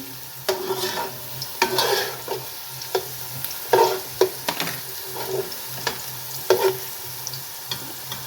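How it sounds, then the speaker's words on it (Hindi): Ingredients for matar pulao stirred in a frying pan, with a steady oily sizzle under irregular scraping strokes of the spoon against the metal, close and moderately loud, no talking. "लाइट ब्राउन सा करना है हमने, चारों तरफ से इनको हिलाएं।"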